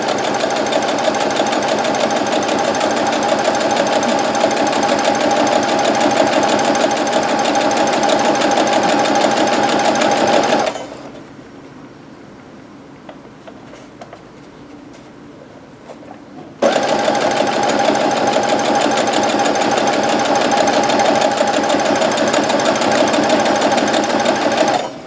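A sewing machine stitches a Christmas quilt row of window-pane blocks, running loud and steady for about ten seconds, pausing for several seconds of near quiet, then resuming at the same even pace to the end.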